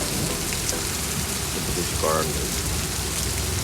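Steady heavy rain with wind on a balcony on a rainy morning, a dense even hiss filling the whole stretch, with a person speaking briefly over it midway.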